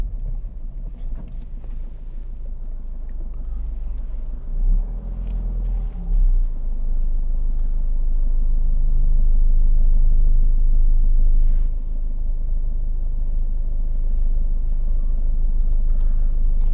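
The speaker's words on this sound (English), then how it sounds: "It's doing about 900 revs in fifth gear, and we're pulling away." A 2014 Ford Fiesta 1.5 TDCi Zetec diesel runs at low revs in fifth gear while driving, giving a steady low rumble with road and wind noise that swells in the middle and then settles.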